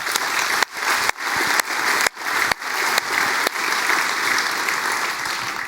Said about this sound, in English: please give a warm applause to everyone who submitted and wasn't accepted